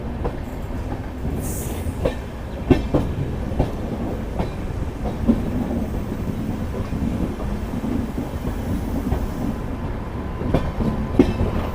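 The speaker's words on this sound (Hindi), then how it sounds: "हरिया भाई लोड बहुत खींचते हैं और आजकल तो पैसेंजर ट्रेन को भी खींच रहे हैं" A locomotive hauling the Lalkuan Amritsar Express gives a steady loud rumble with rhythmic clickety-clack of wheels over rail joints, heard from on board the moving train, with no talking.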